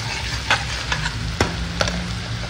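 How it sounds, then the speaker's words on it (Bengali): Chopped onions frying in a pan for a katla fish curry, a steady close sizzle broken by a few sharp clinks and scrapes of the stirring spoon. "এখানে বেশ অনেকটাই পেঁয়াজ কুচি দিয়ে দিয়েছি"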